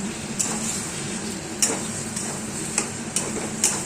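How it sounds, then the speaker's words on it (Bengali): Spoon stirring turmeric, chilli powder and sugar into kochu saak (taro greens) in a pan, with a low steady cooking hiss and a few sharp clinks of the spoon against the pan at irregular intervals, no speech. "তো এটাকে এরপর আমি ভালো করে নাড়িয়ে নেব"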